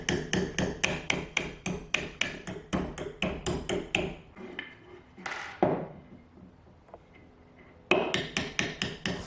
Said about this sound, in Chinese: 轻轻松松，这个螺钉就被敲断了。